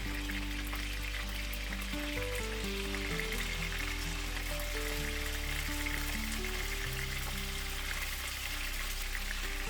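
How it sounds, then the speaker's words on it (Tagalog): Chicken sears in a hot pan for Kapampangan-style asado, a loud, steady sizzle that runs the whole time beneath background music. "Then sear it in a hot pan hanggang mag-brown ng skin at outer layer"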